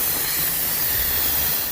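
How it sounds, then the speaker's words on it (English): Steam hisses loudly and steadily from the quick-release valve of a Mealthy MultiPot electric pressure cooker, a continuous close rushing sound with no pauses. "because it's done, we're gonna turn it over to a quick release"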